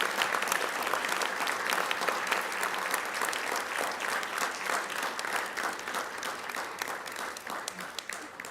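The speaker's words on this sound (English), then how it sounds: "one more round of applause for Janaki and all our nominees" Crowd applause at a convocation as a distinguished international graduate is honoured, steady and moderately distant, with individual claps pulsing through a continuous wash and a little indistinct voice underneath.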